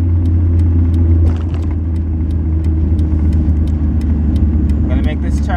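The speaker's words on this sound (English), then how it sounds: "put the clutch in, put it in second gear, rev match" A manual five-speed car is downshifted into second gear with a rev-matching throttle blip, heard as a loud, close, continuous engine rumble that dips slightly partway through, with faint clicks and rattles on top.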